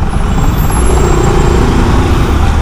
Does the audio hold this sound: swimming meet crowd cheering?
no